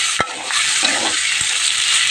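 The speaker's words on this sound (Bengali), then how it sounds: "একটুখানি ভেজে নেবো।" Onion and vegetables fry loudly in a hot pan for a fish-roe curry, giving a steady close hiss and crackle with a few sharp utensil knocks near the start.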